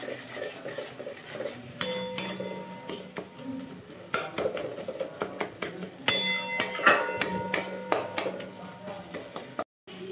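An egg scrambled with pav bhaji masala in a metal pan, heard as a steady run of ringing scrapes and clinks of a utensil against the pan, repeated rhythmically throughout.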